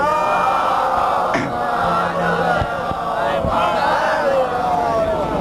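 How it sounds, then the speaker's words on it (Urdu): A large crowd at a 2001 Jashne Qayem religious gathering in Kanodar, Gujarat, India, chants a slogan in unison, a loud, dense wall of voices that rises and swells continuously throughout. "ایک اور نعرے سے بات بھیجیں آپ حضرات"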